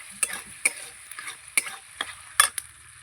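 Goat liver and fat sauté in a pan with a steady sizzle, punctuated by about half a dozen sharp scraping stirs of a spatula against the pan at irregular intervals, close and clear with no talking.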